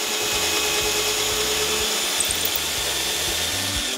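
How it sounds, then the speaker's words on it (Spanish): A power drill bores a screw hole into a guitar neck, running as a continuous close, loud whine and grind for a few seconds before it stops, with no voices over it. "directamente taladramos el siguiente"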